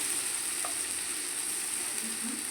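A paste of cashew nuts, poppy seeds and green chilies fries in a pan with a steady, soft sizzle, and a faint stirring scrape is heard near the end.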